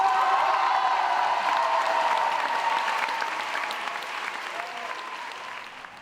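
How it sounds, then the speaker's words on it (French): Audience applause for World Youth Day pilgrims from the diocese of Saint-Brieuc-Tréguier at a gathering in Saint-Malo, a dense, steady clapping with a few faint cheers that slowly thins toward the end. "Je vous demande d'applaudir, mesdames et messieurs, les JMJ du diocèse de Saint-Brieuc-Tréguier"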